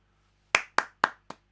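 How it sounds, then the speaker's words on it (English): Hands clap four times in a slow, even rhythm, close and crisp, with silence before the first clap. "a round of applause to him for that video"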